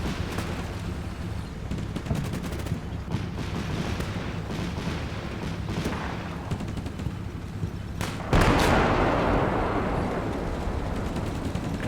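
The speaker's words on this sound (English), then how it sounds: "that's obviously our tanks firing" Tank cannon and small-arms fire in the Combat Mission Black Sea wargame, the Battle for Kozolets: a steady rumbling barrage of thuds and cracks with distant booms, swelling into a louder, denser roar in the final seconds.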